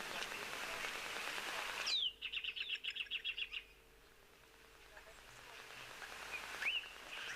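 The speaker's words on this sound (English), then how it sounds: "it's actually the bronze manakin." A bronze mannikin in South Africa gives a quick run of about ten thin, high chirps in a tight rhythm, then falls silent over a quiet, soft background hiss.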